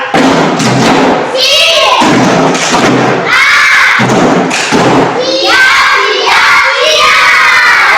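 A primary class of fourth graders in Indonesia performs a rhythmic group clapping chant, sharp synchronized claps and thumps in patterned bursts, with children's voices shouting along between the beats.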